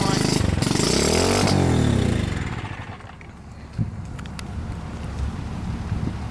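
A small outboard engine on a canoe runs loud and close at first with a steady droning hum, then cuts off, leaving wind noise and a few faint knocks.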